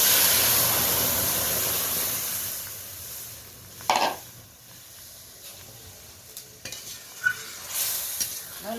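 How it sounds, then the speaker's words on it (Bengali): A spoon stirs boiled lentils for sour dal in a pan, starting under a soft sizzling hiss that fades, then a few scraping knocks and wet swishes close by. "ভালো করে একবার নেড়ে নিলাম।"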